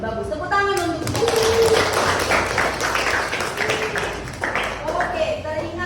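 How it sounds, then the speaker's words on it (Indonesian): A group of children claps their hands at a school money-awareness competition, a short burst of clapping mixed in with lively talk and kids' voices over the top. "Tepuk tangan untuk itu."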